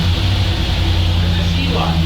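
Chevrolet V8 engine fitted in a ZIL-131 truck, running steadily with a loud, constant low rumble and throb that fills the whole short stretch, close by, with no pause or change in pitch.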